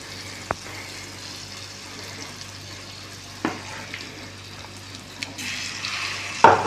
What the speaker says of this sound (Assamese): গৰম তাৱাত অইল দিয়াৰ পাছত আমি যিটো পেষ্ট বনাইছিলো ব্ৰেডেৰে সেইটো